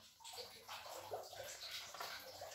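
Water and then coconut milk pour into a cooking pan for a garlic peanut snack, a soft continuous splashing and trickling that stays quiet and steady throughout.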